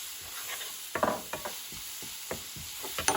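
Fried rice with chili flakes is stirred inside a rice cooker, a close run of soft scraping, knocking strokes at an uneven rhythm with no talking.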